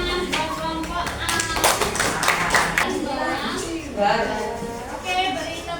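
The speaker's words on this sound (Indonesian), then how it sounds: "beri tepuk tangan buat kelompok A" Applause for a small group of students in a classroom, scattered hand clapping and tapping that continues for several seconds while children's voices chatter over it.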